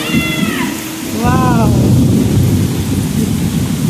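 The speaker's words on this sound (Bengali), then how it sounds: "আজকে অনেক দিন অনেক দিন অনেক দিন পর এত বৃষ্টি হলো" Heavy rain pours steadily in a broad, dense wash after a long dry spell, with a rumble of thunder underneath and a cat meowing twice near the start.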